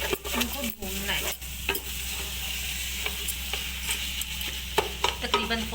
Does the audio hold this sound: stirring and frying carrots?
yes